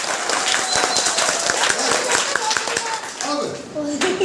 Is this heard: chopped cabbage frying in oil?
no